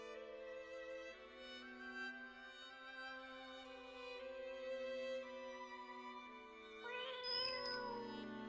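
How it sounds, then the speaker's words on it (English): Synthesized cat-like tones sing over a steady musical backdrop in the video game Deemo, with a brighter burst of chiming sound near the end; no voices. "because the cat makes sounds, right?"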